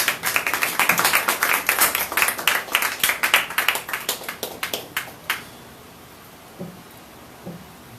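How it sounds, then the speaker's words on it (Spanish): Church congregation clapping hands together in praise, a dense burst of sustained rhythmic applause lasting about five seconds before breaking off into near silence, with a couple of faint isolated knocks afterward. "Dale palmas de alabanza al que vive."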